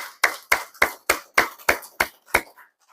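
A church congregation claps together during a Sunday worship service, eight or nine sharp, evenly spaced bursts of applause ringing out loud and close before trailing off.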